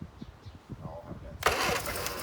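A 1973 Leyland Moke's engine cranks and catches, a sudden loud burst of mechanical noise after a stretch of quiet voices talking nearby.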